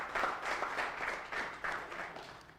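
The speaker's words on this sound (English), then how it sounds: "Let's give him a round of applause." An audience at a public speaking boot camp session claps for a participant, a steady round of many hands that rises and falls in soft surges at moderate distance, with no talk over it.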